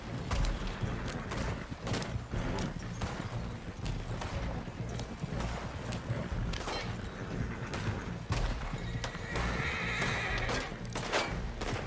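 A horse neighs and whinnies in a Western video game amid hoofbeats, clattering mechanisms and scattered distant gunshots, all in a busy, continuous game soundscape.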